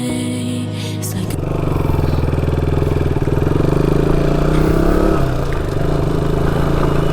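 A KTM Duke 200 (BS4) motorcycle engine runs loud and close, rising in pitch early on and then holding a steady, throbbing rev before easing back slightly near the end.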